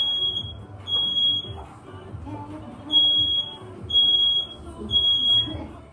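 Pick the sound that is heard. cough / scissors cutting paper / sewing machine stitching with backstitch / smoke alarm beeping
smoke alarm beeping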